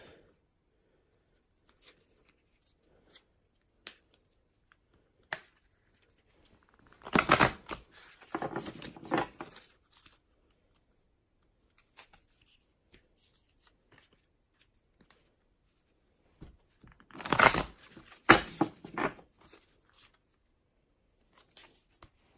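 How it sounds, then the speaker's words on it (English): Two separate bursts of quick papery riffling as oracle cards are shuffled close up, each lasting a few seconds, with faint taps and near silence between. "Okay, so we'll shuffle the cards."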